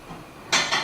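A plate is set down on a kitchen counter during raw cacao chocolate preparation, giving two quick close clinks in a row after a quiet moment.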